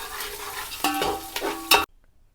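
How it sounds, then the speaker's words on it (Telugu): Garlic and turmeric fry in a pan while being stirred, with short scraping strokes over a soft sizzle, close and fairly loud, cutting off abruptly. "అండ్ వెల్లుల్లి కూడా దాంతోపాటు పసుపు ఇంకా ఇది బాగా ఫ్రై చేసుకోవాలి"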